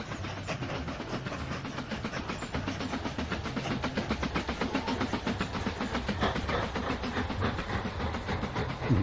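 A train in the transport strategy video game Mashinky rolls along with a rapid, rhythmic clatter and steady hiss, a continuous mechanical chugging that holds even and fairly loud, with no voices.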